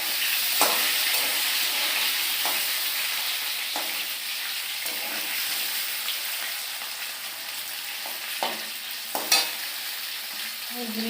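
Potatoes frying in a pan of hot oil with cumin for a vegetarian dish, a steady close sizzle broken by repeated scraping stirs and a few louder spatula knocks near the end.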